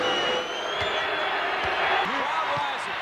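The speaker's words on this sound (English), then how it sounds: "Crowd rises" Basketball arena crowd during a 1995 Orlando Magic NBA game, a loud, steady roar of cheering and noise, with a few sharp thuds and a commentator speaking over it.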